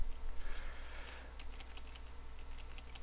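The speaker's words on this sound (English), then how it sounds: "now I'm just going to use my cursor keys just to space this out" Computer keyboard cursor keys are pressed repeatedly while arranging a layout in Photoshop, a short run of light, quick clicks from close by over a low steady hum, with no voice.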